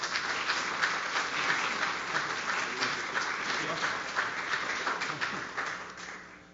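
An auditorium audience at the University of Oklahoma 2024 Three Minute Thesis competition applauds steadily to welcome a speaker to the stage, a dense wash of clapping that fades slightly at the end.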